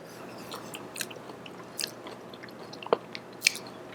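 Someone eats a spoonful of spicy cilantro chutney made with yogurt, giving soft, close chewing and a few brief crunchy bites against quiet room tone.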